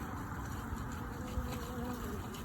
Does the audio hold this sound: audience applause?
no